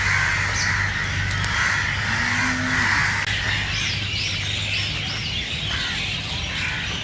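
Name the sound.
crows cawing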